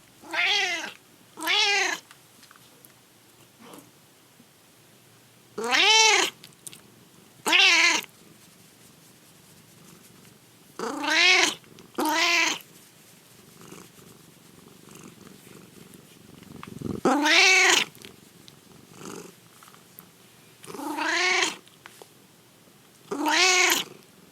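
A cat lets out a series of loud, drawn-out meows at irregular intervals, with a soft continuous purr running quietly underneath between the calls.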